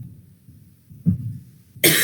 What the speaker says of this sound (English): I'm gonna have a coughing attack.